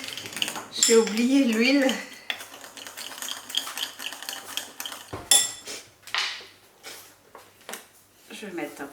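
Pondu being mixed in a pot with a metal utensil, clattering scrapes and knocks against the pot in irregular bursts, with a person talking over the stirring.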